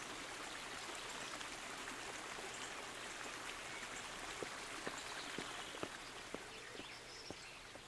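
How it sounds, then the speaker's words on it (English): A stream flows beside a village site in Kingdom Come: Deliverance, a soft, steady watery rush with faint drip-like ticks near the end, quiet and continuous with no voices. "It's a good thing we have this stream."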